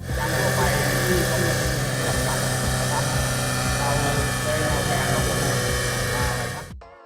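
Gasoline two-stroke engine of a Thai navy patrol boat runs at a steady, loud, buzzing drone with a fixed pitch and rich harmonics, constant throughout before cutting off abruptly at the very end.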